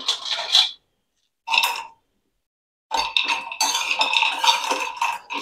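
Roasted flaxseed scraped out of a metal cooking pan: three bursts of metallic scraping and clinking, two short ones and then a longer continuous scrape, close and fairly loud with silent gaps.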